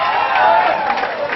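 Classroom audience clapping for a student who won a movie ticket, a dense burst of applause with some cheering carrying through the whole stretch without a break.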